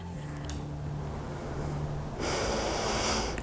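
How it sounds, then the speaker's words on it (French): Deep breathing during stretching exercises for sciatic pain: a slow, soft nasal breath, then a louder, airier exhale that takes over for the last second or so. "On prend des bonnes respirations."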